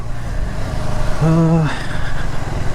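2025 KTM Adventure motorcycle engine running underway, a steady close engine drone and wind rush with a short tonal whine midway, with no speech heard.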